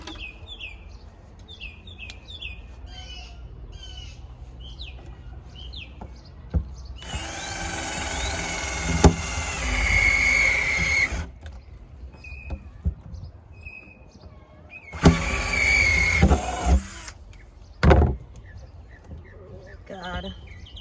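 A power drill bores into a plastic bucket for a DIY raised bed, with two loud whirring bursts of several seconds each, birds chirping outdoors between them and a person speaking nearby.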